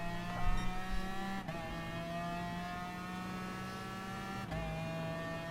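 Nissan GT-R race car engine in Gran Turismo Sport, a loud, close, steady high-revving drone with harmonic whine, broken by two quick gear-shift dips and a brief thump near the start, no talk.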